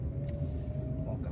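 A car passing on a street at night in Maringá, Paraná, heard as a steady low engine rumble with a faint tonal hum, fairly close and continuous over the short stretch.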